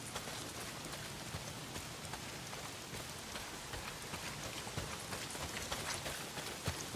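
Heavy rain pours down in the Days Gone video game, a dense, steady patter of drops hitting surfaces at a fairly quiet level, continuous and unbroken with no voices over it.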